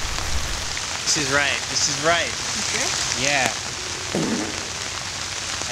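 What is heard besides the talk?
pouring rain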